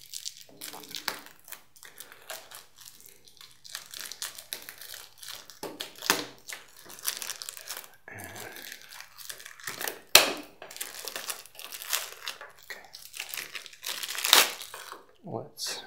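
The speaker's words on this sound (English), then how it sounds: "I'm just gonna cut through the plastic here." Plastic wrapping is cut and torn off a tin box holding a Legend of the Five Rings Crane starter deck, with close, irregular crinkling and crunching bursts and a few sharp snaps; no speech over it.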